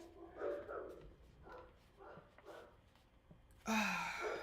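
Dogs bark faintly in a few short bursts from across a home during a card-crafting session, followed by a louder close rustle.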